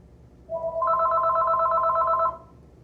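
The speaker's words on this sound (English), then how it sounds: "Oops, sorry about the phone." A telephone rings indoors with one steady electronic tonal burst lasting under two seconds, loud and clear over a quiet backyard background.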